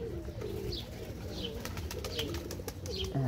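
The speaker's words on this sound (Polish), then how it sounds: "No tak jest, tych gołąbków trochę jest" Pigeons coo in repeated low, soft phrases outdoors, at moderate distance, over a steady background hum and occasional light clicks.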